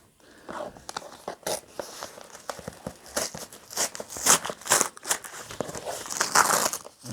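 Plastic bag crinkling and tearing as a boxed book package is unpacked, a close, busy run of rustles and crunches with sharp louder crackles toward the end, no talk.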